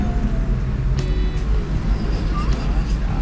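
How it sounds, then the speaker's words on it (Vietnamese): Steady road rumble from traffic in a jam, cars and motorbikes idling and creeping close by, a continuous low drone with occasional faint horn-like tones, while people talk over it. "Ồ, kẹt xe quá rồi."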